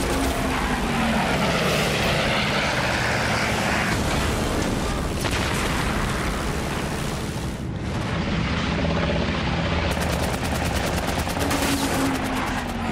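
Aerial combat with a fighter plane's machine guns firing in dense rapid bursts over a roaring engine, loud and continuous, with a sharp rattling volley near the end.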